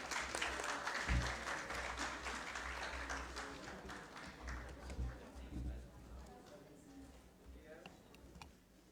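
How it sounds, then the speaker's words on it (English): Sustained applause from a medical conference audience, dense and even, fading gradually toward the end, with some talking mixed in underneath. "Please give them a huge round of applause."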